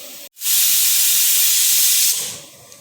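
After a brief pause, a pressure cooker whistle releases a loud steady hiss of steam for nearly two seconds, close and harsh, then tapers off quickly.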